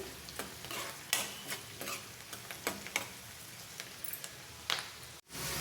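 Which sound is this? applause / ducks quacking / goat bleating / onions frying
onions frying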